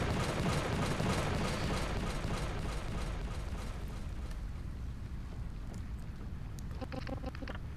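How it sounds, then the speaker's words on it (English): A quadcopter blows up in the video game Donut County, a loud rumbling blast that fades gradually over several seconds into quieter debris sounds and a few faint high clinks at the end. "Quadcopter blown up."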